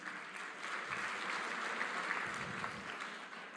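Sustained applause from a dinner audience honouring the BDF at a Botswana team appreciation event, a steady, dense wash of clapping at moderate distance, fairly even throughout and slightly tapering at the end.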